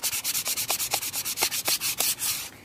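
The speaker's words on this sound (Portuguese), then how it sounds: "Agora eu vou lixar com uma lixa mais fininha, a 220, ok? Então vamos lixar para deixar bem lisinho." Fine 220-grit sandpaper rubbed over painted craft pieces for a mirrored door decoration, a steady run of about a dozen quick rasping strokes, close and alone.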